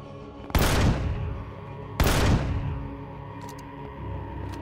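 Gunfire from a weapon in the sci-fi survival video game Empyrion Galactic Survival, two loud separate shots about a second and a half apart, each with a booming decaying tail, then a quieter background with faint ticks.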